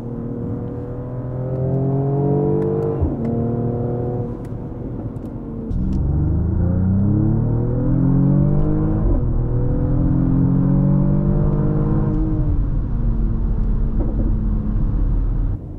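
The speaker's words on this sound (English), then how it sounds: "When you get on it, a nice noise fills the cabin in typical AMG style." A 2021 Mercedes GLE 53 AMG SUV's engine heard from inside the cabin under hard acceleration, a loud, droning rev that climbs through gears, with a brief dip at each shift before rising again.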